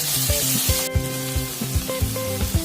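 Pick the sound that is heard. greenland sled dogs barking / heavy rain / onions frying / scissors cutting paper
onions frying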